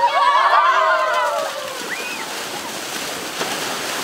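Sea waves and surf washing up on a beach where young athletes train, a steady broad wash that is loud at the start, then eases to an even background with brief splashes.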